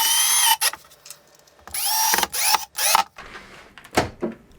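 A table saw cuts a 170mm square of aluminium plate for a CNC spindle mount, giving several bursts of high metallic screeching with short gaps between passes. Loud and close, with no talk.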